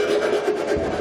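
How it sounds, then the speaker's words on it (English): Hand file rasping around the edge of a freshly cut hole in metal to remove burrs, a steady continuous scraping rub at close range with no speech. "I'm just going to use a hand file and kind of go around the opening that we made to remove any burrs"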